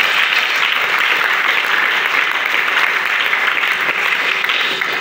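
A church congregation breaks into loud, sustained applause, dense continuous clapping from many hands that stays steady throughout, with no distinct voices.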